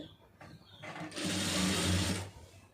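A sewing machine stitches lining fabric, whirring in one close, steady burst of a little over a second after a few faint handling sounds.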